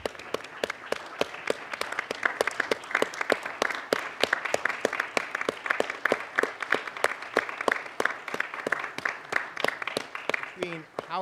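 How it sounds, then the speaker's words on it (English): A township reorganization meeting audience applauds a departing official, steady close clapping from a modest crowd that carries on evenly for around eleven seconds. "You should go out with the crowd cheering you"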